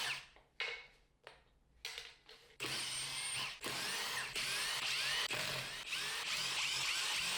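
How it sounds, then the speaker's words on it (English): A power tool drives substantial screws out of a wooden shipping box, first in short stop-start bursts and then in a long continuous whirring run, loud and close. "Thank goodness for power tools."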